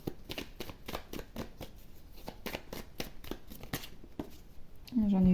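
Oracle cards shuffled in a steady run of rapid papery flicks and taps, close up, before a brief voice comes in at the very end.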